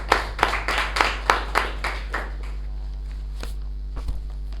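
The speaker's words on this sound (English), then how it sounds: "Please give a big round of applause to Toastmaster Nagesh and Toastmaster" At a Toastmasters club meeting, a small group claps for the speakers: a run of sharp, evenly spaced claps close by, thinning to a few scattered hits over a steady low hum.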